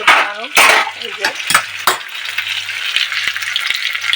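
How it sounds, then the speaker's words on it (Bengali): Fish heads fry in a hot pan with a loud, close sizzle and repeated clattering knocks from a spatula stirring against the metal; a brief voice is heard near the start. "মাছের মাথা ভাজছি"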